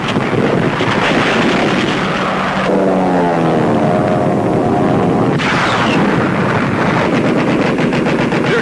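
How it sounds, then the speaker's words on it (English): WW2 Japanese torpedo plane at Midway roars overhead amid a dense, continuous barrage of anti-aircraft machine-gun fire, with wind buffeting and an engine tone sweeping past in the middle. "Here comes a Jap torpedo plane."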